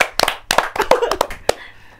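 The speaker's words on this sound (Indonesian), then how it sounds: "tepuk tangan untuk Alfa" A small audience claps in loose, uneven bursts for a young guest at an Indonesian talk show, several sharp hand claps scattered over two seconds, fairly close, fading out at the end.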